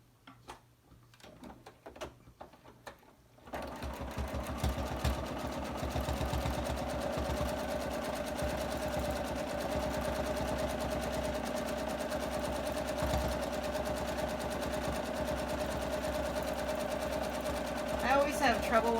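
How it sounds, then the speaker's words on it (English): Sewing machine free-motion quilting leaves and swirls on a mini pineapple log cabin quilt with a Microtex needle, starting after a few seconds of quiet handling, then running as a steady, close, continuous whir until the end. "So I'm doing some leaves and swirls on this quilt."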